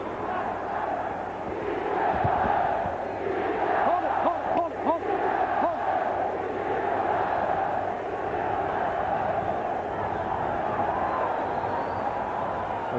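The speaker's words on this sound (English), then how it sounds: "The crowd certainly seemed happy with the results from round one." A large boxing arena crowd roars and cheers between rounds at the Tszyu vs. Chavez fight, a broad sustained wash of voices with a few louder swells and shouts, steady throughout.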